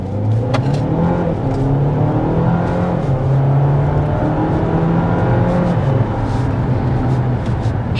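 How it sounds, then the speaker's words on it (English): A 2024 Dodge Hornet GT accelerates hard, its engine droning loud and steady throughout as the pitch climbs through the gears, with a brief dip near the middle of the pull and no talking. "we're going to start out with a hard acceleration"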